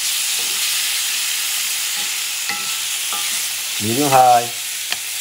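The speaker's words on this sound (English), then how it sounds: "You stir this baby." Bison stew braising in a cast iron pot gets stirred over medium-high heat, a steady loud sizzle running throughout with a few scraping knocks, and a short voice breaks in near the end.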